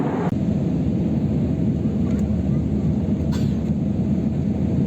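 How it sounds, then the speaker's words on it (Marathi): Cabin of a passenger airplane descending toward landing at Bengaluru, a steady low engine and airflow rumble filling the cabin, constant and fairly loud, with a couple of faint brief clicks. "आता विमान लँडिंगसाठी खाली येत आहे।"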